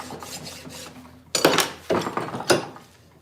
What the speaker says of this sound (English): Then I finished with a finer file. This is a chainsaw file.